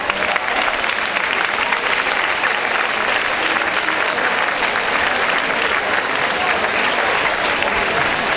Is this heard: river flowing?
no